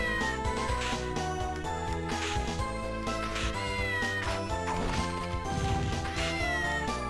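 A cat meows in Castlevania: Order of Ecclesia, its cries mixed into dense, loud game music that plays continuously throughout, with crashing effects scattered through the track.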